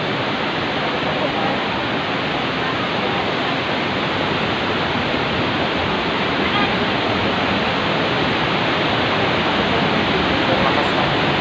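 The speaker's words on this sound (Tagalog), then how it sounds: "Lakas ng agos ng tubig" Strong river current rushes near Wawa Dam, a loud, constant roar of churning water that fills the scene without a break.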